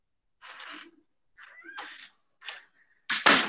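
A house cat meowing and making raspy, insistent vocal sounds to be let outside, several short calls in separate bursts, close and fairly loud, ending with a harsher, noisier burst.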